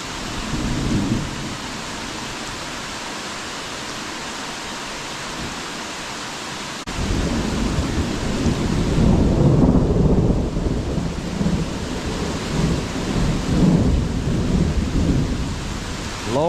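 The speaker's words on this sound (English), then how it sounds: "I'm not going to fuss about the rain." Steady rain pours down, then grows heavier and louder halfway through, with a deep rumble of thunder rolling underneath the downpour.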